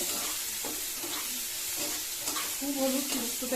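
Vegetables for shukto, including drumstick, fry in a pan with salt and turmeric, giving a close, continuous hissing sizzle with small stirring scrapes and faint background murmurs near the end.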